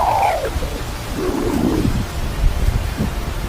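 Solar storm radio emissions recorded from the Sun, heard as a rough, windy hiss with a downward-sweeping tonal whistle at the start and a second warbling sweep midway, steady and moderately loud throughout.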